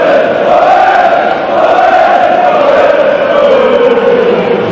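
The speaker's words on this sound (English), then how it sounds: "It's the first time we've really heard the crowd tonight." A football crowd at a Leyton Orient match in the 1993-94 season gives a sustained, loud roar and a rising-and-falling collective chant, with no speech.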